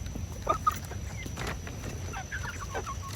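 Chickens cluck softly and intermittently, a few close quiet clucks over a steady low background hum.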